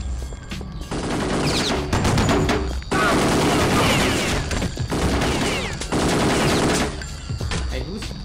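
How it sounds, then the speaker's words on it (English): Rapid automatic gunfire and bursts of shots in the video game Kingpin, loud and close, coming in several sustained volleys with brief gaps between them. "Hey, who is shooting?"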